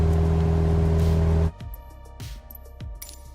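An aircraft engine in Microsoft Flight Simulator, flying over the Australian Alps, drones loud and steady, then abruptly drops to a quieter hum broken by a few sharp clicks.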